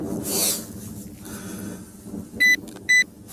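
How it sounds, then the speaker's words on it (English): Two short, bright electronic beeps from a metal detector pinpointer switching on, in quick succession, clear and close, over a low outdoor rumble with a brief hiss before them. "Good, 2 beeps means it's on."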